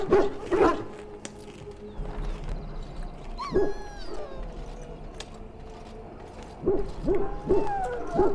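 A dog in the fantasy role-playing game Dragon Age Origins gives several sharp, hoarse barks and yelps spaced across a few seconds, with a whining whimper between them, close and clear over a low game ambience.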